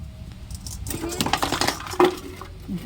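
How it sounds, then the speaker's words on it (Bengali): A cooking pot tips over with a short metallic clatter and clinks of pans, close by, while voices talk over it. "হাঁড়িটা উল্টে চলে গেল, তাহলে কি করে ভাত এবারে রান্না করবে?"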